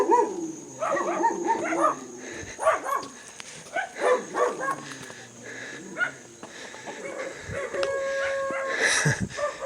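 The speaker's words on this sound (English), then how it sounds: "Now they're all going to be barking." Several dogs bark and yip on a hillside path near Micoxtla in Veracruz, Mexico, irregular close barks with whimpers and wheezy sounds, spread across the stretch.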